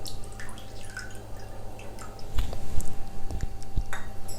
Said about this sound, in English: now I'll pour some water